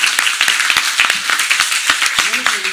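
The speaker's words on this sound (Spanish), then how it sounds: "Aplauso para el fondo" Applause and scattered clapping from an audience at a live stage show, sharp irregular claps over a steady crowd wash, with voices mixed in.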